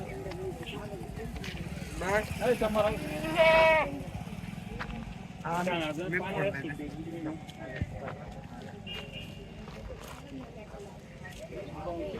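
Osmanabadi goats bleat at the Katewadi livestock market in Chalisgaon, several close, wavering calls rising over the noise of a busy market while people talk.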